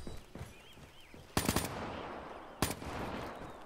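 Two sharp automatic gunfire bursts in Black Ops III, each a quick rattling volley standing out loudly above a quieter game background.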